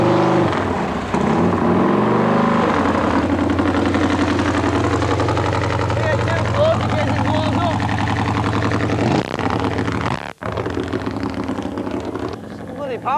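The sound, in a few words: racing motorcycle engines started and idling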